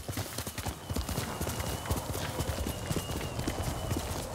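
Horse hooves in the video game Ghost of Tsushima, a rapid, steady clip-clop of galloping with closely spaced hits, loud and continuous throughout.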